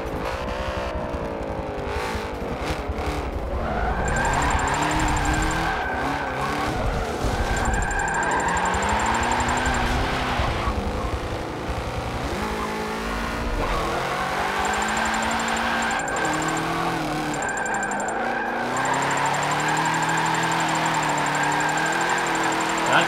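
A 2015 Corvette races in Forza Motorsport 7 with its engine revving hard and changing pitch through gear shifts and decelerations, while tires screech in intermittent high squeals, loud and continuous for over twenty seconds.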